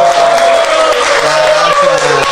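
An audience claps steadily after a song, a dense, loud wash of applause that carries on without a break.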